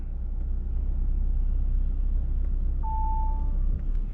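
A red 2021 Audi A3 sedan, 1.5 TFSI 150 hp S-line, creeps forward in drive with a steady low engine and road rumble, plus a short high tone partway through.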